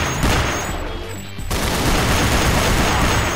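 AUG rifle fire in the 2D shooter game Soldat, loud rapid continuous bursts of gunfire filling the whole clip, briefly thinning before resuming at full intensity.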